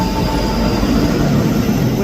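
A ScotRail train, unit 334018 on the Edinburgh Waverley to Helensburgh Central service, rumbles steadily through Edinburgh Haymarket station at close range, with loud, continuous rail noise and faint squeal.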